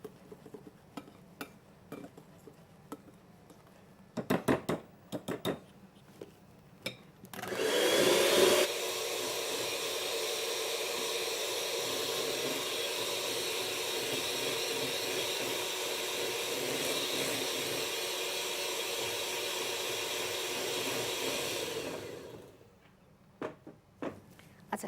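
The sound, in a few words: stirring whipped foam for a dessert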